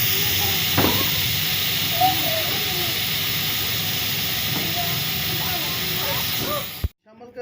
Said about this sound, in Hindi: प्रेशर को चूल्हे पे रखेंगे और इसे बॉयल कर लेंगे